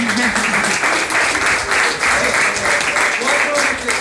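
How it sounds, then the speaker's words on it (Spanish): An audience of schoolchildren and guests gives sustained, dense clapping at a school history talk, steady and loud for the whole stretch with faint voices beneath. "Un aplauso"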